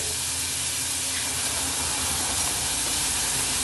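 Onions cook in butter as they are stirred, giving a steady, close hiss and sizzle with no pauses.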